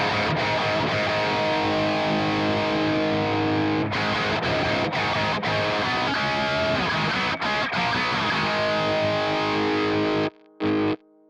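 Heavily distorted, high-gain electric guitar through an amp simulator plugin: chugs and sustained chords, thick and saturated, with brief choppy cuts near the end.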